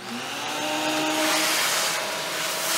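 Steady, loud whooshing drone of a vacuum cleaner motor used as a sound effect, holding an even roar with a slight rise in intensity midway.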